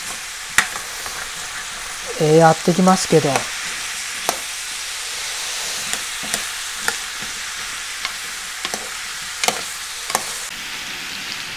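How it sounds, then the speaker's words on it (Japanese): Pork belly and daikon being stir-fried in a pot for a home lunch, with a steady low sizzle and scattered scraping stir clicks throughout, plus a brief spoken phrase early on. "炒めてますけどね、どれぐらいまで炒めていいかよくわかんないな。"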